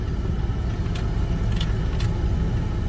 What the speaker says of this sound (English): JT's going to do his 3-point road turn for his driving test